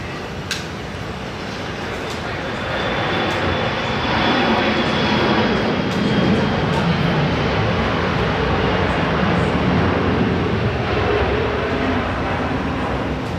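Aircraft engines at Seattle-Tacoma International Airport, a steady loud roar that swells after the first few seconds and holds, with a faint high whine running through it and no talk.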